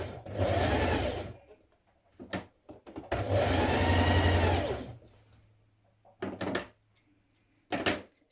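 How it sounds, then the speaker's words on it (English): Sewing machine stitching a 2 centimetre seam on a tunic top, two long steady whirring runs with short bursts and brief stops between them, close and loud with no talking. "you're going to stitch it in place with a 2 centimetre seam"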